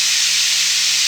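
A pressure cooker cooking beef tongue with garlic, cardamom and cinnamon lets off steam in a loud, steady, close hiss that does not let up, with a faint low hum underneath.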